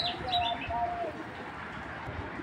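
Racer pigeons give a few soft coos and chirps near the start, quiet against faint background noise.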